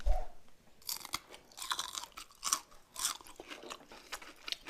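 A crunchy hamburger is bitten and chewed close up, a steady run of crisp crunches and soft chewing sounds with no talking.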